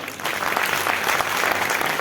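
Dense applause from an audience at a Mission Chemical Free Bharat gathering, steady sustained clapping filling the whole stretch after a brief quieter start, with no talk over it.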